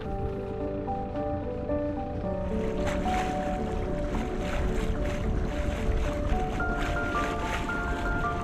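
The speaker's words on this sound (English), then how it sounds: "we dropped the sails and motored in the last few hundred metres" A sailboat motors into an anchorage off the English coast, its engine giving a steady, continuous drone that builds slightly under wind and water noise.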